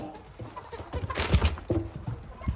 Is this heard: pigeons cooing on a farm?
yes